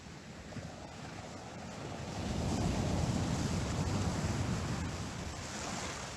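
Waves wash onto a beach in a steady broadband roar that builds and eases, mixed with wind, with no voices.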